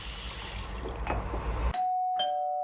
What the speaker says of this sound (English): Her doorbell rings,